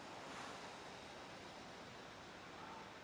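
Sea waves washing onto a beach, a steady broadband surf roar with gentle swells, close and continuous, with no voices.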